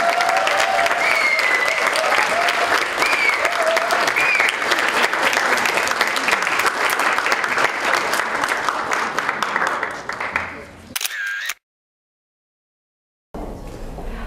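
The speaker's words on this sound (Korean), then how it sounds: "박수가 더 필요할 것 같습니다." Sustained, even applause fills a hall at a thesis competition award ceremony for about ten seconds, with some voices mixed in, then thins out, drops to silence and returns briefly.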